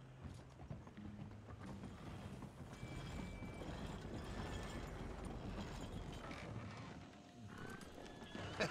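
Horse in the Red Dead Redemption II video game, with hooves clip-clopping and a neigh or whinny breaking through a steady bed of game sound and music.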